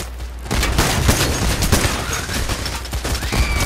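Rapid, dense gunfire from the PAYDAY The Heist video game, a loud, continuous fusillade of overlapping shots that starts abruptly and keeps going without pause.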